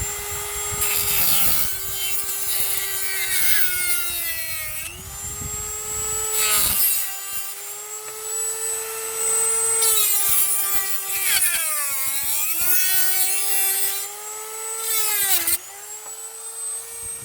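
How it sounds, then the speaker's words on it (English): Dremel rotary tool roughing out a motorcycle mudguard part, a loud continuous high-pitched whine that dips and rises in pitch as it bites into the material, with gritty grinding underneath, heard alone without talk. "So we're just going to rough this out with a Dremel"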